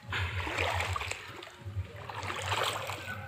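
Floodwater running through a village lane in Odisha, a broad, steady wash of flowing and splashing water with a low rumble underneath, close and continuous with no talk.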